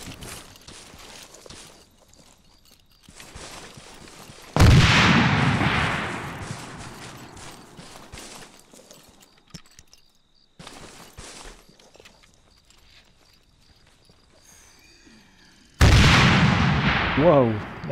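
Explosions from blowing up launchers and weapons in the Arma 3 military game, two loud booming blasts with long rumbling tails separated by quieter stretches of ambient noise and light footsteps.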